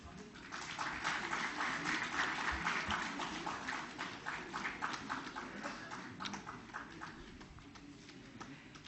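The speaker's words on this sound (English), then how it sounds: "Ladies and gentlemen, a round of applause" An audience at a safety convention awards ceremony applauds the construction-category winners, a broad, fairly quiet patter of many hands that swells early, then softens and carries on steadily.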